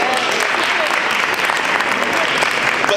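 Audience members at a university Black History Bowl quiz event give a guest speaker a continuous, even round of applause at close range, with someone talking over the clapping.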